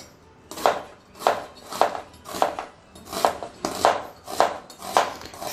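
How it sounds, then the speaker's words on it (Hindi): A knife cuts onions into long strips on a board for mutton curry, giving about eight steady, evenly spaced chops up close with no talking. "ये देखिए हम प्याज को लंबे लंबे आकार में कटिंग कर लेते हैं।"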